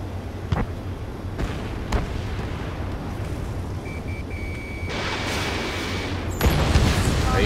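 Missiles fire and explosions burst in a combat flight video game against bombers and their escorts, with sharp blasts, a sustained rushing roar and a brief warning tone, heard loud and close.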